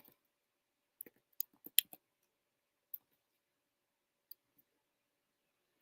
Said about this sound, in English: Sorry, guys, I'm typing.